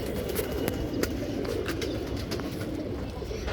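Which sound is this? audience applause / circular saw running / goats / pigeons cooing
pigeons cooing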